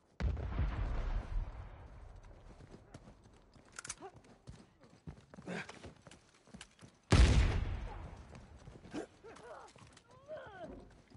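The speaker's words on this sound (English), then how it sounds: "Someone's shooting us from the back." Gunfire in Uncharted 4 multiplayer: scattered sharp shots, one loud crack partway through among fainter pops and bursts, with game noise and some voice between.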